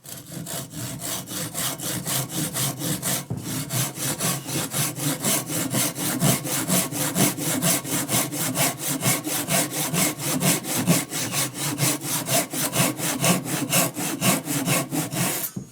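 A hand saw cuts through wood to form a tenon, its rhythmic back-and-forth strokes rasping steadily and close up without a break, with no voices.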